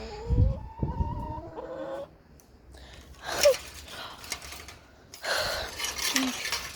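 A small backyard flock of Super Harco hens with a rooster clucks and calls in short bursts, with scattered faint clatter and rustling around them.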